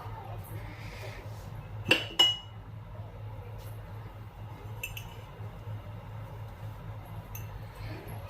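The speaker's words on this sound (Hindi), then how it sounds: "एक गिलास ले लेती हूँ।" A drinking glass is picked up in a home kitchen, giving two sharp glassy clinks close together, then a few fainter knocks against a steady low hum.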